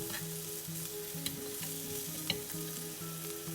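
Skewered prawns pan frying in oil with garlic sizzle steadily at close range, with a faint low hum running underneath and two soft clicks.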